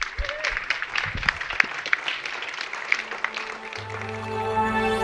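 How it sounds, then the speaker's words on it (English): Scattered applause follows a panel at a Web3 summit, with crisp individual claps over several seconds before the clapping fades and a sustained musical tone rises at the end. "let's give a round of applause"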